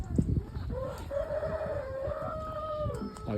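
A rooster crows in a long drawn-out call while hens cluck softly around it, close by, with some faint knocks early on.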